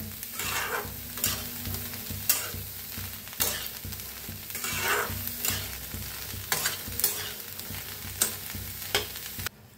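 Corn kernels roasting in a pan, with steady close sizzling and crackling, repeated scraping stirs and sharp little pops scattered through the whole stretch.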